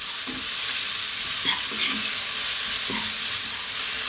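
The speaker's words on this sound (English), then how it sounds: "We're going to throw these around in the pan just for like 2 minutes" Shrimp seasoned with salt and black pepper are tossed in a hot pan, a constant loud sizzle broken by a few soft clicks and scrapes as they are moved around.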